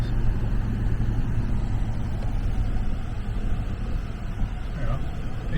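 A 4x4 bogged in soft beach sand on the Sealine Beach area of Qatar, its engine droning steadily and labouring close by, loud and continuous with no break, while speech is faintly present under it.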